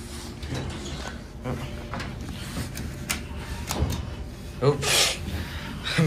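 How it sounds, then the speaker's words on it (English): A Dover Impulse elevator relay in a medical center building gives several sharp clicks at uneven intervals. They sit among cab and door noises, with someone speaking at times. "Then you can hear the relay."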